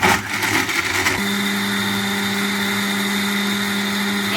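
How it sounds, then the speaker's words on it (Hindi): An electric blender whirring Oreo biscuits into cold coffee starts after some shuffling and settles into a loud, steady, high motor whine that holds until the end, with no talking. "इसको कवर करेंगे और फिर ब्लेंड करेंगे।"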